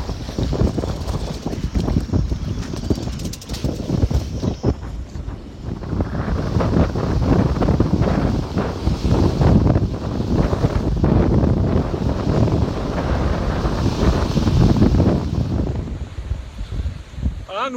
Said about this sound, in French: Actuellement, il y a près de 40 nœuds de vent dehors